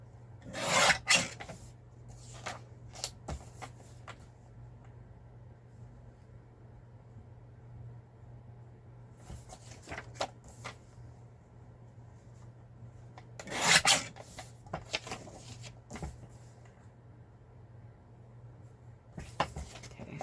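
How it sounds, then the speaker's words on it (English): Paper pages being cut down for a handmade golden book, producing rasping, rubbing strokes in short bursts with quieter gaps between, close up over a low steady hum, no voices. "Let's cut this one down."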